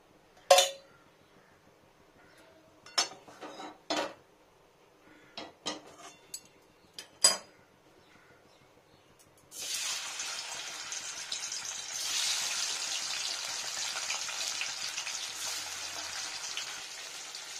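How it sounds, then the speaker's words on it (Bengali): Pieces of paneer drop into hot white oil in a pan, first a few separate clinks and taps, then a loud, steady sizzle of frying that runs on without pause. "টেম্পারেচারটা ডাউনে করে পনিরটাকে একটু লাল করে ভাজবো"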